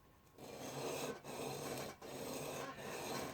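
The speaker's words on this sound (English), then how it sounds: "Now it's got a duller, less metallic sound because this is aluminum plate with a very thin section of the diamond." Plane iron scrubbed back and forth across an aluminum diamond lapping plate, giving a dull, gritty rasp in three long strokes with brief pauses between, close and steady.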